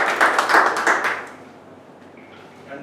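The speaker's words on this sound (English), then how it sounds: "give him a big round of applause" An audience at a club meeting claps, a short burst of applause that fades out after about a second and a half.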